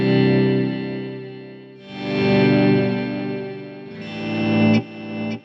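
Electric guitar played through a Kemper Profiler on a stadium-tour rig, with several slow volume swells blooming into sustained, effect-laden chords that ring out in reverb and delay tails.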